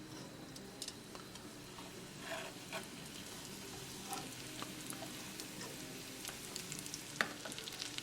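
Salmon pieces coated in oats sizzle gently in a pan over low gas, a faint, steady crackle with scattered small pops and ticks, no talking.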